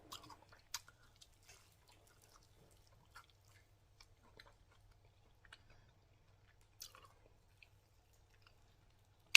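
Someone chewing Chinese-style fried chicken wings with a light, crunchy coating, giving soft scattered crunches and wet mouth sounds close to the microphone over a faint steady hum.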